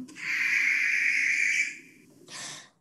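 A barn owl's final screech, a long rasping hiss of about two seconds followed by a shorter, softer screech, close and clear with no talk.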